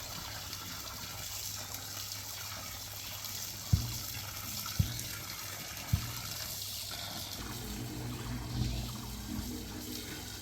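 Water gushes steadily into a biogas digester with a hollow, continuous rush, punctuated by a few sharp knocks.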